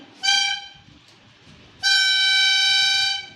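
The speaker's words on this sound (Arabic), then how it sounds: "يلا زمر كده زمر كده زمرة" Two loud, sustained car horn honks, the first about half a second and the second over a second long, sounding close by with no one speaking over them.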